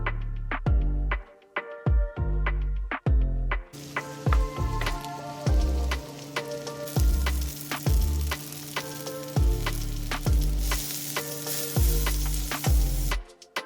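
Vegetables for beef fried rice sizzle in a hot pan, a steady close frying crackle broken by repeated knocks and scrapes of a utensil stirring them, with no talk.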